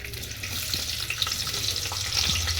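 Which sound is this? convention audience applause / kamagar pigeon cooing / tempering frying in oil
tempering frying in oil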